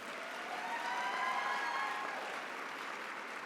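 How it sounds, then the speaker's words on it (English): Audience at an awards gala applauding, a steady, fairly faint wash of clapping from a room of people, sustained throughout without talk. "Let's give PepsiCo a round of applause."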